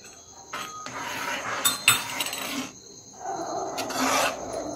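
Rabdi with cardamom powder being stirred in a pan, heard as a close, uneven scraping and rasping of a spoon against metal in several strokes, with a thick, wet stirring texture in the last second or two.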